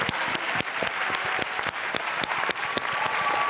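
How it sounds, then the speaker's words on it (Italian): An audience at a televised award ceremony for the 48-hour contest applauds a winning team, a dense, steady round of clapping with a few sharper, louder claps standing out. "un applauso alla squadra di Cristian Iezzi"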